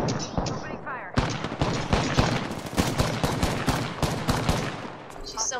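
Rapid gunfire in a multiplayer shooter video game: dense bursts of sharp automatic shots with a few heavier booms, loud and nearly continuous after a brief opening, with players talking over it.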